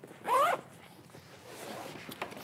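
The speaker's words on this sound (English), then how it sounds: "So zip this up real quick" A quick zip closes a compartment on a GORUCK GR1 26L backpack, one short, loud, close zipping stroke followed by faint handling rustle.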